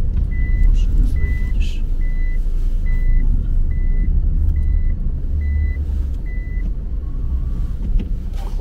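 A port work vehicle reversing toward a shipping container, its backup alarm chirping in an even, repeated rhythm of about nine beeps over a heavy, close engine rumble.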